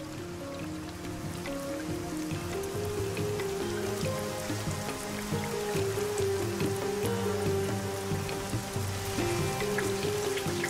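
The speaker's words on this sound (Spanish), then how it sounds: "El resultado es la lluvia." Heavy rain pours down in Australia across the whole stretch, a dense hiss of drops on surfaces, with a low rhythmic hum underneath throughout.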